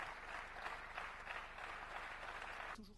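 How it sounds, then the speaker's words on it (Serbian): Members of a parliament applaud a speech, a sustained, dense wash of clapping throughout that cuts off abruptly near the end. "Poslanici su govor pozdravili višeminutnim aplauzom."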